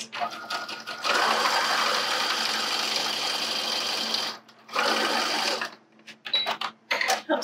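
A sewing machine basting the edges of boxer briefs with an eighth-inch seam allowance runs in long steady bursts, stops briefly twice and then starts and stops in short spurts, with a person speaking now and then over the whirring.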